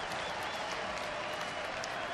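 Baseball stadium crowd at a Brewers at Phillies game, a steady wash of cheering and applause filling the whole moment, loud and continuous with no clear individual voices.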